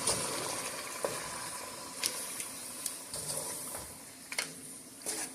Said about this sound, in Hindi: और इन स्पाइसेस को अच्छी तरह से मिक्स करते हैं।